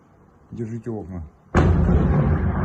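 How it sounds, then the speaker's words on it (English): A loud, sustained explosion erupts off to the left in war footage, booming in right after a brief stretch of a man's speech and rumbling on to the end. "Oh, there was an explosion off to the left."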